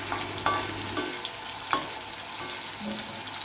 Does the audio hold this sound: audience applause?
no